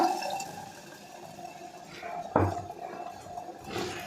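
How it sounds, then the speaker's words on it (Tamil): Water is poured into a simmering village-style roasted-and-ground fish gravy, giving soft splashing and gurgling with a sharper splash partway through, fairly quiet, without any speech. "இப்போ இந்த தண்ணி இதில் சேர்த்திக்கிறேன்."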